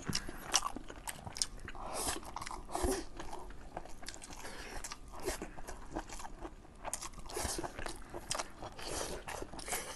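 Close crunchy chewing of rice with braised pork belly and preserved mustard greens, wet bites and smacking mouth sounds repeating steadily throughout, with no talk.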